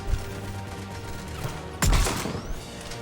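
Gunfire in the Mass Effect 3 video game, a single sharp, loud shot with a short rumbling tail against quiet game ambience.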